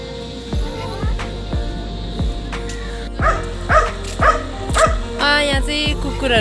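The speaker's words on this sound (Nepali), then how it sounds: "कुकुरहरू र बाँदरहरूको लडाइँ परेर सबै" Dogs bark repeatedly in a fight with monkeys, a series of loud, close barks and yips that grow more frantic toward the end, with some whimpering mixed in.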